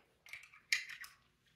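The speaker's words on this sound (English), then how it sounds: "can I have the scissors" Scissors snip through blind box snack-pack packaging in a few short, crisp cuts, close up and fairly quiet, with faint room sound between the snips.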